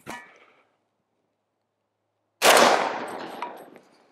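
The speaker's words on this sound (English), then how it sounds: "Remington 150 grain 308 ball coming out of a 16-inch scar" A single loud, close rifle shot: Remington 150 grain .308 ball fired from a 16-inch SCAR into roofing shingles, a sharp crack with a long decaying tail after a brief clatter and silence.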